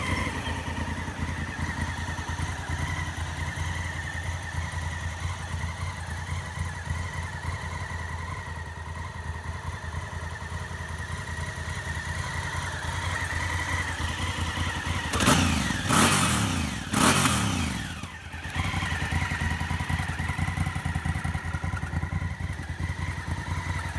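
A Dakar Red Honda Africa Twin motorcycle with just over 6,000 miles idles with a steady, close engine rumble, then revs up in a few brief blips before settling back to a constant idle, with no talk.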